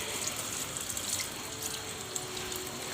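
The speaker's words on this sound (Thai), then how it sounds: "ล้างครับล้างไปเรื่อยๆนะครับจนกว่าคราบกาวจะหมด" Running water rinses glue residue off a homemade part in a steady, close hiss that continues unbroken throughout, with no voices.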